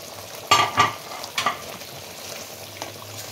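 Katla fish pieces are stirred in a thick yogurt curry in a pan, giving a few scraping clatters and soft sizzling bursts, close by with no talk.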